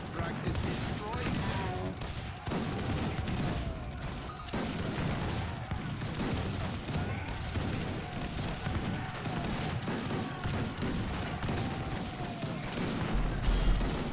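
Machine gun fire and battle noise from Age of Empires 3 rattle on continuously at moderate level, with dense overlapping shots and clashes and a voice talking over it.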